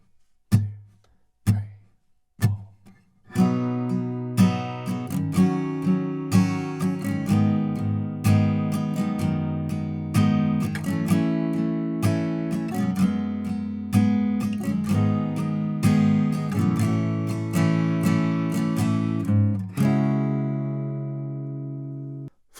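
Acoustic guitar playing the verse chords of a song, opening with a few sparse plucked chords, then settling into a steady, loud rhythmic strum with regular down-up accents, close and alone.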